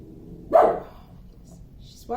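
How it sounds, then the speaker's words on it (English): A single loud dog bark rings out indoors near a drilling job, followed by quiet room noise and a brief faint sound at the end. "Forgive my dog. She's being a dog."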